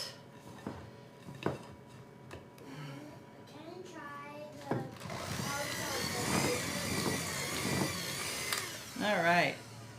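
An electric mixer whirs steadily through maple frosting for maple bacon cupcakes, a broad buzzing drone that rises mid-clip while people talk over it in a home kitchen.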